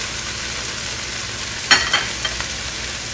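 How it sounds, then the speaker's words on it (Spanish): Longaniza sausage frying in a pan, a steady sizzle running throughout with a few scraping stirs of a utensil near the end, close and alone. "Ya nuestra longaniza ya se está guisando"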